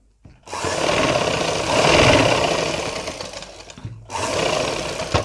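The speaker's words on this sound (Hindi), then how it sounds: "इस साइड में सिलाई लगा देना है" A sewing machine stitches a pocket onto a salwar in two loud, close, continuous runs of whirring motor and rapid needle chatter, separated by a short pause, with no talking.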